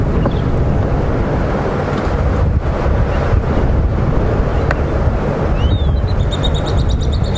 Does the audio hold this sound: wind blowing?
yes